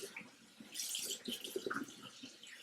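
Hot tap water runs and splashes as a makeup cloth is rinsed under a faucet, with soft irregular splashes and trickles, fairly quiet and close.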